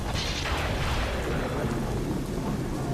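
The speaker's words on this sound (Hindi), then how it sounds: "आसमान में बिजली कड़कती रही" Heavy rain pours steadily while deep thunder rumbles low and continuous beneath it, a dense, loud stormy wash with no pauses.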